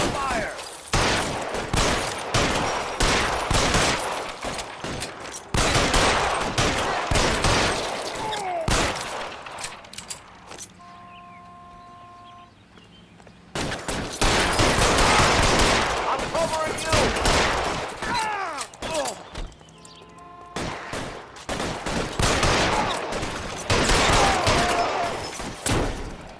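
Sustained bursts of gunfire from an L.A. Noire Remastered shootout, loud and dense with rapid volleys, broken by a couple of brief quieter pauses before the shooting resumes.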